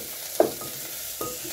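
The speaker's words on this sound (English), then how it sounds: "So my onions are starting to brown" Onions fry and brown in a pot with a soft, steady sizzle, broken by two brief stirring scrapes spaced about a second apart, close by but fairly quiet, with no talking.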